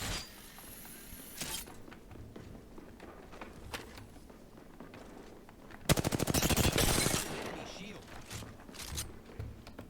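Apex Legends weapon fire: scattered single shots and small impacts, then a loud, rapid automatic burst near the middle with sharp, evenly spaced reports, while a voice talks over parts of it.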